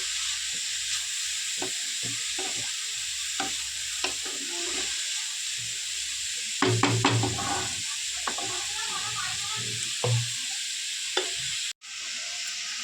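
Bottle gourd lightly frying in a pan for a sweet pudding, with a steady hiss of sizzling throughout and scattered scrapes and knocks of stirring, a busier burst midway, nearby and without speech.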